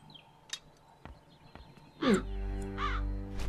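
Crows caw in The Dark Eye: Memoria, a few scattered clicks first, then loud, harsh caws near the end, one long and two shorter ones, close and distinct.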